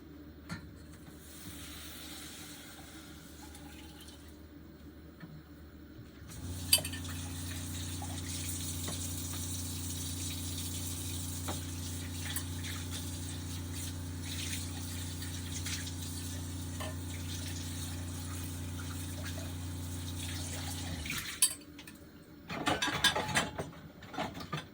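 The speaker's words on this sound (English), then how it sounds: "this is a pre-made vegetable broth that's dehydrated by Frontier Co-op that I just mixed in with water" Water running and mixing in a kitchen as dehydrated Frontier Co-op vegetable broth is combined with water, a steady pouring and churning rush lasting about fifteen seconds between quieter stretches, with brief clatter near the end.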